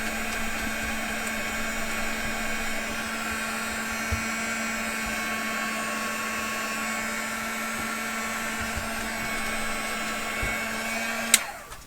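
A hair dryer blowing steadily on a handmade bookmark at close range, a continuous whirring hum with a fixed tone that holds for over ten seconds before cutting off with a brief click.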